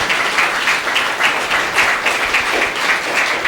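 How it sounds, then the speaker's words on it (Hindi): Loud applause from an audience at a youth event in India, close, dense clapping that swells in gentle waves and keeps going without any talk. "तालियों की गूंज"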